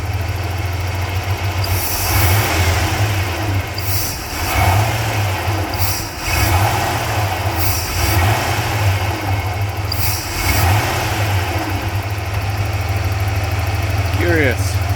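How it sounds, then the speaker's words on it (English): An engine idles after repair with a low, steady rumble and rhythmic pulsing, its pitch dipping and recovering at intervals, while a person talks intermittently over it. "It's idling lower."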